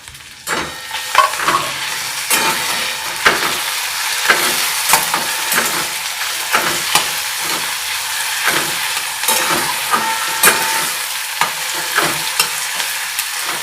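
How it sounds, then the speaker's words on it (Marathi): Chopped onion and a small tomato fry in hot oil, a steady bright sizzle running throughout, punctuated by regular taps and scrapes of a spoon stirring the pan. "टमाटा असं छान असं मऊ द्यायचं आहे तेलामध्ये, कांदा आणि टमाटा।"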